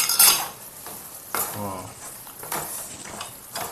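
A chicken and broad bean curry with turmeric being stirred in a pan, scraping spoon strokes and clinks over a low sizzle, a few distinct stirring bursts, fairly close.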